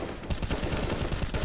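Rapid automatic gunfire from the video game Counter-Strike: Global Offensive rattles in a fast, steady stream of loud shots, with no voices over it.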